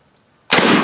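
A shotgun chambered for 3-inch shells fires a single 3/8 ounce slug, one sudden loud sharp blast after a moment of quiet, ringing briefly.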